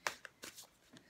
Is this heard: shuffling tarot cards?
yes